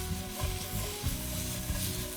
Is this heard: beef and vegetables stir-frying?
yes